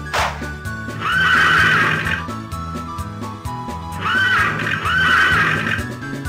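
Horses neigh at the start of a race in the Harvest Moon video game, with two loud, shrill whinnies a few seconds apart over a low synthesized music bed and no voices.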